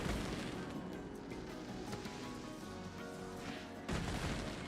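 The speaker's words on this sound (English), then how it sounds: "I hope you all are excited for some in-game fireworks" Fireworks bursting in the theme park game Planet Coaster 2, a dense, continuous barrage of booms and crackling that fills the whole stretch with no let-up, loud and close, with a fresh surge of blasts near the end.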